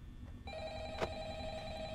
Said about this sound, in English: What's the damn phone?